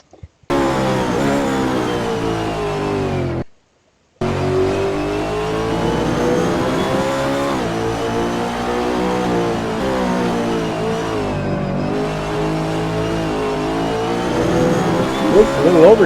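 Onboard view of a GT race car at Road America, the engine roaring loud and close, revving hard through gear changes with rising and falling pitch, a short cut near the start, continuous under occasional commentary.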